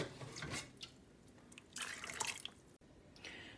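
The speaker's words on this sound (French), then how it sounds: "je vais donc remplir d'eau." Water pours into a pot for soaking white beans, giving very faint splashing and dripping in short uneven bursts in a quiet kitchen.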